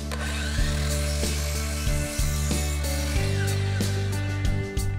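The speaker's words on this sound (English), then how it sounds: "I'm just using more of the same scrap wood to cut a shelf as wide as the backer board" Scrap wood being cut for a shelf, a loud, steady, droning power-tool whine that holds throughout with brief dips in pitch as the blade meets the wood, close and continuous.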